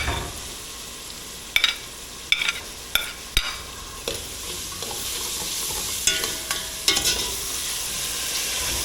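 Vegetables and sausage sautéing in a pot for a curry, a steady loud sizzle with occasional sharp scrapes and clacks of a stirring utensil against the pot, no talk.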